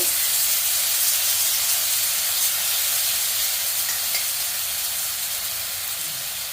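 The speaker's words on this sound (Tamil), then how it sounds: "ரெண்டு ஸ்பூன் இஞ்சி பூண்டு பேஸ்ட்டு போட்டு நல்லா இது பண்ணி வதக்கிட்டு" Two spoons of ginger garlic paste sautéing in a pan for chicken varuval, a steady, even hiss and sizzle of frying that continues unbroken, with no talk.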